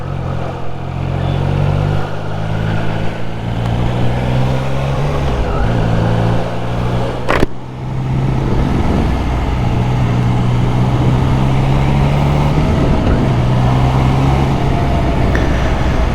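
Triumph Trident 660 motorcycle engine under way on the road, a loud, steady three-cylinder drone with pitch shifting as revs rise and fall, plus rushing wind, one brief sharp click midway, and no talk.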